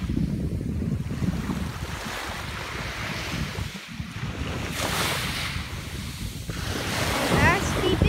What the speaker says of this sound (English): But I'm at a beach, as you hear.